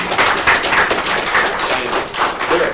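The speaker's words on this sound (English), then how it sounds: "Again, let's give a round of applause." A round of applause from the audience at a Palatka city commission meeting, steady dense clapping from many hands filling the room, fairly loud and continuous without voices over it.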